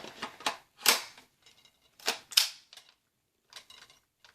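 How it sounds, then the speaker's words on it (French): Tippmann M4 airsoft rifle being handled as a magazine goes in, a series of sharp plastic clicks and clacks in short bursts separated by quiet gaps. "Donc, je vais mettre le chargeur."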